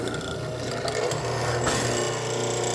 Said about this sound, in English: Now I'm going to go down and get that second mortise, the little shorter one.